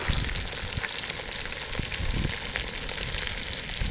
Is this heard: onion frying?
yes